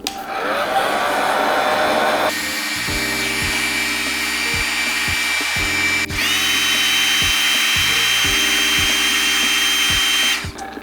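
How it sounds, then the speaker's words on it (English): A hair dryer blows loudly and steadily, its motor pitch shifting a few times as settings change, with no voices. "But what I did do is I got a hair dryer"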